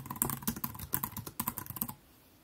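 Rapid typing on a computer keyboard, a quick run of close, crisp key clicks for about two seconds that then stops, leaving quiet room tone, with no one speaking.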